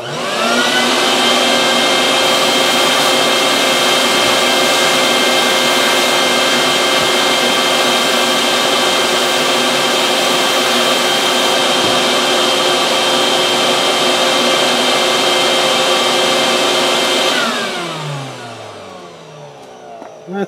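Sandblast cabinet with a vacuum system and Dust Deputy cyclone separator running, a loud steady whooshing roar with constant tonal hum that holds for about seventeen seconds, then winds down and fades near the end.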